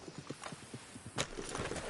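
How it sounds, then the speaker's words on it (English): Horse hooves clip-clopping in Red Dead Redemption 2, a quick rhythmic run of hoofbeats, fairly close and clear, with a louder thump partway through and no talk over it. "I'll take his horse."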